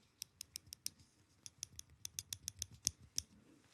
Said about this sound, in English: to remove your switches, you have a switch remover